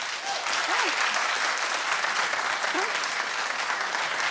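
A television talk show studio audience claps in steady, even applause that fills the whole stretch at moderate loudness.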